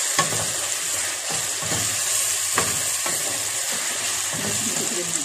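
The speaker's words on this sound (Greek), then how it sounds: "Και η πατάτα είναι σαν να τηγανίζεται." Sliced potato fries in a pan with a steady dense sizzle and occasional scraping stirs and clinks. It is close and continuous, and nobody speaks over it.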